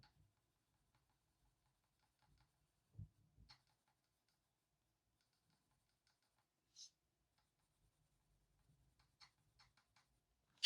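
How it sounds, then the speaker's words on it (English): A plastic butterfly hair clip clicks several times during a quiet colouring session, with faint sparse taps and a couple of slightly louder clicks near the start, middle and end. "apologies for all the clicking that the butterfly clip is making"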